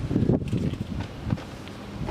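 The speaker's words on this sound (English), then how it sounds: "it's kind of windy out here" Gusty wind buffets the microphone outdoors with low rumbling bursts, rising and easing irregularly.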